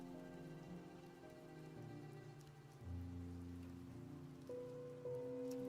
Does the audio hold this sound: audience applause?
no